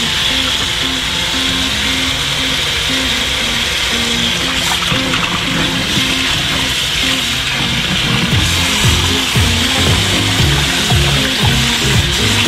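Bamboo shoots rinsed under a running tap, a steady close wash of splashing, trickling water that runs throughout with no talk.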